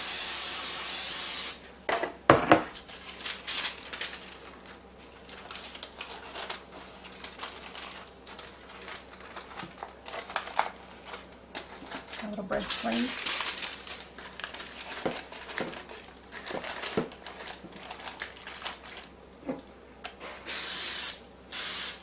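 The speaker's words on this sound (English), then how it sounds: "And I spray them a second time just to make them stay." Cooking spray hisses into disposable loaf pans for a lemon curd pound cake, several short bursts and one longer spray near the start and end, close and fairly loud, with brief talk and pan crinkling between.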